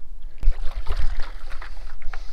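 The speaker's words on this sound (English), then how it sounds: "Time to paddle home." A paddle dips and pulls through open water offshore in Key Largo while the rider moves along on a paddleboard. There are several close splashy strokes and trickling drips, moderately loud, with no talk.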